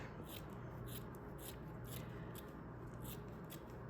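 Scissors snip through fabric around an embroidery hoop in a steady run of close, crisp cuts, each stroke a soft rasping crunch repeating roughly every half second.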